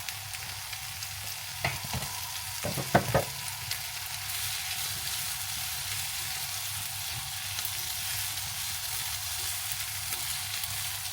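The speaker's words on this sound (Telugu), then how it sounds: "ఇలా కొంచెంసేపు ఇలా వేగనివ్వండి." Capsicum frying in olive oil with pepper and salt, a steady soft sizzle throughout with a few brief clinks of stirring near the start, heard close with no voices.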